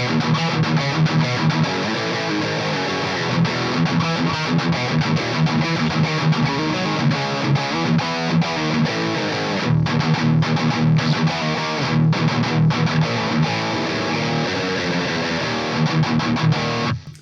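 Electric guitar through a Gower-modded Marshall amp with the high-gain mod, gain set high, roars with dense, heavily distorted bassy chugging riffs, loud and continuous with brief choppy breaks, no talking.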